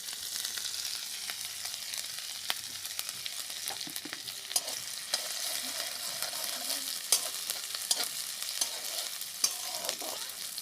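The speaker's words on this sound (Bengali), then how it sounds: "তাই গরম করে দিয়ে দিব সামান্য তেল তেলটা আমি অল্প করেই দিয়েছি তারপর দিব রসুন কুচি কাঁচা লঙ্কা কুচি আর আদা কুচি" Chopped garlic, green chili and ginger frying in a little oil, a fairly quiet continuous sizzle with occasional sharp clicks and taps of a spoon against the pan.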